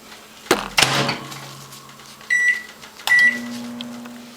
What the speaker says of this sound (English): I'm going to microwave this on high for 2 minutes